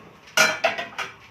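A cooking pot on a stovetop being handled while rice is prepared, giving a few sharp metallic clanks and knocks in quick succession, close and fairly loud, with no talking.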